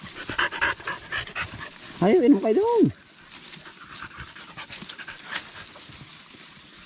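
Tired dogs pant hard after running in the heat at a chili and tomato farm, with a quick breathy burst up close as someone speaks over them.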